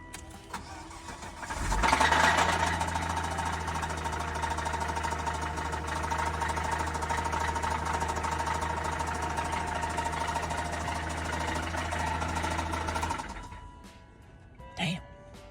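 A car engine runs rough at idle after new spark plugs, starting near and loud with a steady, uneven low drone, then cutting off near the end, followed by a brief clunk.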